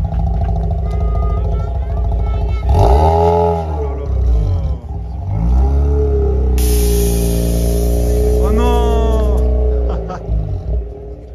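A loud rotary-engine car revs hard at a car meet, rising and falling in pitch with a raspy, high-pitched whine, while people talk nearby.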